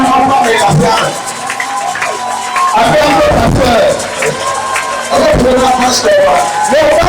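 Church congregation cheering and acclaiming the pastor during a French-language worship service, a loud sustained roar of voices with whoops and shouts, swelling and dipping over several seconds.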